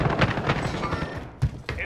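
Gunfire in the battle royale video game Warzone comes as a few short, sharp bursts spaced through a brief moment, mixed with game ambience.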